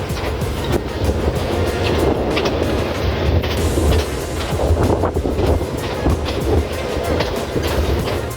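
A dusty passenger train between Nairobi and Nanyuki in Kenya, swaying along the rails with a steady rumbling roll and rattling clatter, heard from inside the carriage amid wind noise.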